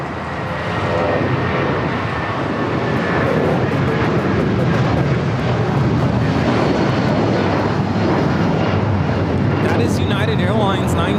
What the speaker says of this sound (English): Airlines 1950 taking off to Newark on the 757-200.